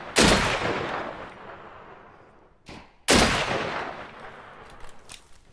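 Two loud gunshots ring out in the survival shooter game Deadside, a few seconds apart, each with a sharp crack and a long fading echo.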